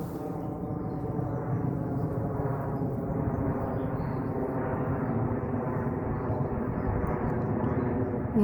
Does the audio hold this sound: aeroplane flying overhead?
yes